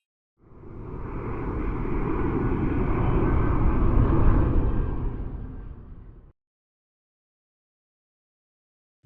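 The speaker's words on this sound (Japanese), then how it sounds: "これは飛行機。" An airplane flies past, its broad roar swelling to a peak and fading over about six seconds, then cutting off to silence before a brief loud burst at the very end.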